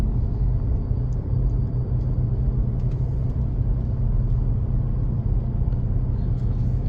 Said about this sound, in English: This is what the vehicle sounds like when we take it down the road.